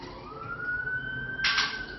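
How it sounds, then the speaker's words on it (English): A steady wailing siren tone holds at one pitch, with a brief brighter burst of noise near the end; no voices. "Hear that siren"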